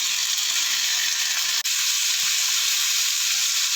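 Marinated chicken and mushrooms frying in a pan give a steady, close, loud sizzle and hiss with one brief break, and no talking.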